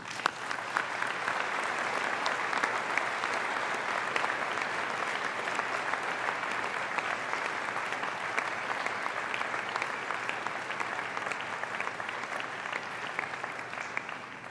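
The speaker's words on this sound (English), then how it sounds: "I ask you to join me and recognize their contribution by a round of applause." A university graduation ceremony audience gives a long, even round of applause, a dense unbroken wash of many hands clapping that holds steady from start to finish in a large hall.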